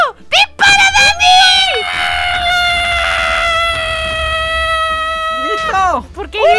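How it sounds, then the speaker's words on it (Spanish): Loud, sustained high-pitched screaming from players during a shooting video game, a long wailing cry held for several seconds between shorter shrieks at the start and end. "¿Por qué tú gritas si estás aquí parado haciendo nada?"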